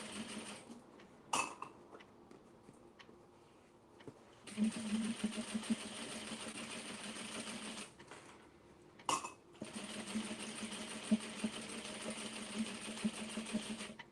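A sewing machine top-stitches a denim tote bag in two steady bursts of rapid mechanical stitching, separated by a brief pause with faint handling clicks, heard close and fairly quiet.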